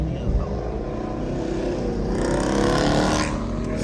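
Ford Mustang GT with the 5.0 V8 driving hard in traffic, a loud, close engine drone that climbs in pitch as it accelerates, heard from inside the car with cabin rumble.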